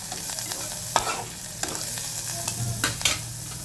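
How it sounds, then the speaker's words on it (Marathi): Carrots being sautéed with spices in a pan for an oats mixed vegetable khichdi, with a steady soft sizzle and light stirring scrapes, close and fairly quiet, with no voices. "त्यामध्ये टाकणार आहोत गाजर देखील परतून घेऊया"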